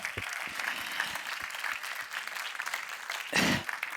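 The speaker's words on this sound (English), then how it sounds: "Please kindly stand up so we can applaud Meg Mangan." Audience applause at a forum panel, a steady wash of many hands clapping at moderate level for several seconds, with a louder burst near the end.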